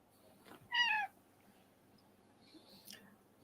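A cat gives one clear meow near the start, moderately close, then the clip falls quiet apart from faint background noise and a brief higher sound near the end.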